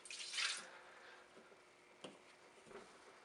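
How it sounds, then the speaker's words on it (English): Bleach splashes briefly into a humidifier reservoir, then a few faint drips and small clicks follow in an otherwise quiet room. "I'm going to pour that into my reservoir."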